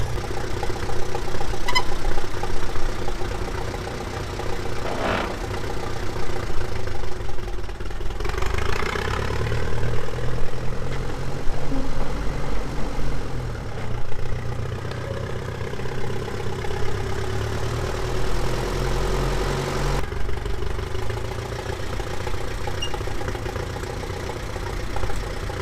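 Vintage Massey Ferguson tractor with newly relined drum brakes, engine idling steadily at close range, a continuous low rumble with slight variations in load over the whole stretch.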